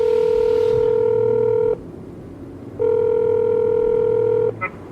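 A telephone number being dialed: two long, steady keypad tones separated by a short pause, loud and clear over a faint background hiss, ending with a brief chirp.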